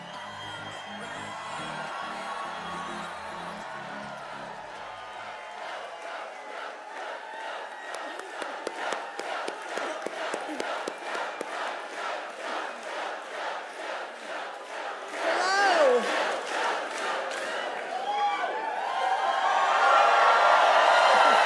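A large crowd at a Biden campaign rally in Raleigh cheers, whoops and claps in rhythmic bursts, swelling steadily louder into a sustained roar over the closing seconds.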